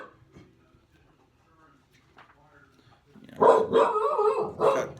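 A dog barks indoors in a few loud, quick bursts near the end, after a quiet stretch with faint sounds in the room.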